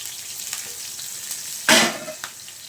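Green chillies dropped into hot oil with mustard seeds and cumin give a soft background sizzle, then one brief louder hiss as they hit the pan.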